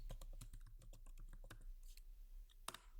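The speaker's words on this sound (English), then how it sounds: "we type in git status" A computer keyboard rattles with a rapid string of close, crisp keystrokes as a git status command is typed into a terminal. A single sharper key press, like Enter, comes near the end. No one speaks.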